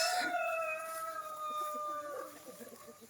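A rooster crows loudly nearby with a long drawn-out call, followed by softer clucking from chickens in the background.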